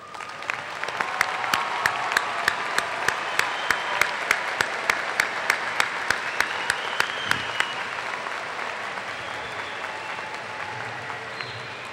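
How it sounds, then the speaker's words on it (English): A large crowd claps steadily in a hall at a high school graduation ceremony, sustained applause with sharp individual claps standing out, fading slightly toward the end. "Seniors, give your parents a round of applause."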